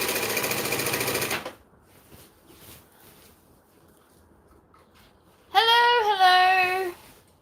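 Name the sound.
sewing machine stitching shade sail fabric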